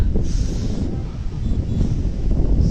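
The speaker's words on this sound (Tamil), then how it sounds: "காற்று பலமாக அடிக்குது." Steady, blustery wind roars across the microphone on Doddabetta peak in Ooty, a low rumbling buffet that swells and dips without pause.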